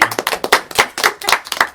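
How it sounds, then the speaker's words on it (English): A short burst of applause from a small group at a school literary society farewell, distinct individual claps close by, brief and lively. "can we just give Mrs Riou a big round of applause for today,"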